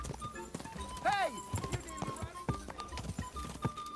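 Steady clip-clop of a galloping horse in the video game Kingdom Come Deliverance 2, close and rhythmic, with a brief whinny near the start and voices over the hoofbeats.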